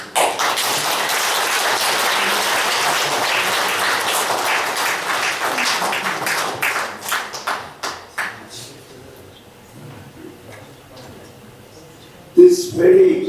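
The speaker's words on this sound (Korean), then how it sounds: "많은 박수로 부탁드립니다." Audience applause at a founding ceremony for an association in Maryland, full and sustained for several seconds, then breaking into scattered single claps that die away to near quiet before a voice starts speaking.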